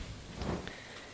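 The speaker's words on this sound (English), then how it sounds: "when a green rain descends upon the valley" Green rain falls over the valley in the video game Stardew Valley, a steady soft hiss of rainfall with faint rumbling beneath and no voices.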